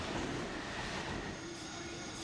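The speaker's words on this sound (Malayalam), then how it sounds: "എയർപോർട്ടിൽ നിന്ന് ജമൈക്ക എന്ന പ്രദേശത്തെ റെയിൽവേ സ്റ്റേഷൻ വരെ പോകുന്ന ട്രെയിനാണിത്." The airport AirTrain running toward Jamaica station in New York gives a steady, moderately quiet rolling rumble with faint wheel hiss and squeal throughout, heard from inside the car.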